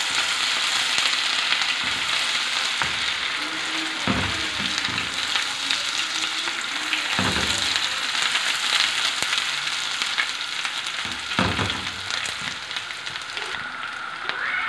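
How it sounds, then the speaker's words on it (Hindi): Ginger garlic paste frying with medium-browned onions in a pan: a loud, steady sizzle runs throughout, with occasional soft scrapes and bumps of a spoon stirring. "अब इसमें डालते हैं जी अदरक लहसुन का पेस्ट। अब इसको इसमें थोड़ा सा फ्राई करते हैं।"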